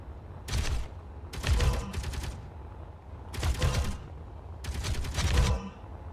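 Bursts of turret gunfire in Space Engineers, four rapid rattling volleys of a second or so each separated by brief pauses, loud and close over a low rumbling background.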